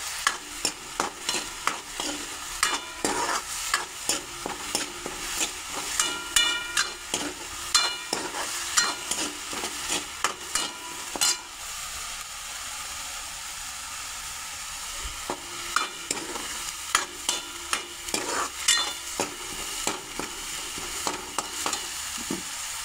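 Onions sauté in a pan for a quick chole masala, sizzling steadily under repeated scraping and tapping from a stirring spoon, with a short quieter stretch midway.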